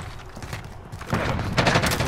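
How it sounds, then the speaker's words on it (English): A burst of explosive gunfire and blasts erupts in an online shooter game, rising sharply halfway through into a loud, dense volley that continues to the end. "What was that explosion?"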